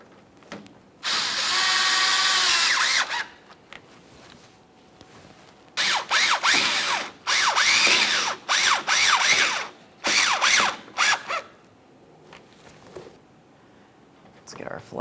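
A cordless power driver snugs the mounting fasteners of a windshield washer reservoir on a 2017-2024 GMC Acadia, whirring for a steady two-second run and then in a string of short, close bursts with brief pauses.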